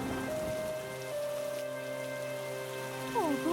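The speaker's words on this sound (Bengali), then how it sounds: "কিন্তু যেতে না যেতে জোরে বৃষ্টি নামলো।" Heavy cartoon-style rain pours steadily as a continuous wash, with a sustained tonal music bed running beneath it and a swooping effect near the end.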